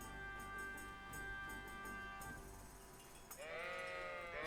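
A sheep at a sheepfold in Kingdom Come Deliverance lets out a single clear bleat near the end, over a soft musical backdrop.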